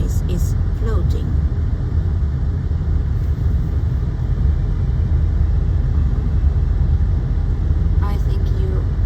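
A car driving on the ice road across the frozen sea to Hailuoto Island in Finland, with a steady, loud low rumble of tyres and engine heard from inside the car, and a voice speaking briefly over it.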